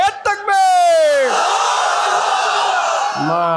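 A large gathering at a Bengali Islamic sermon answers a takbir call with a loud, unified shouted chant. A single voice cries out first, the crowd's roar swells and holds, then another call begins near the end.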